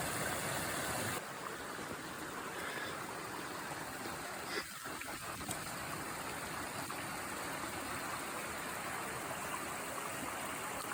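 A stream flows on a hike toward a waterfall, giving a steady broadband rush of water that stays even and fairly faint throughout, with no talking.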